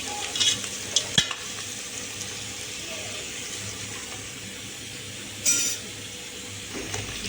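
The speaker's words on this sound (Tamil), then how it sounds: "இன்னும் கொஞ்சம் நேரம் வெங்காயம் வதங்கட்டும்" Onions sauté in a pan, a low steady sizzle broken by a few stirring scrapes and clanks at the start and later on, with no talk.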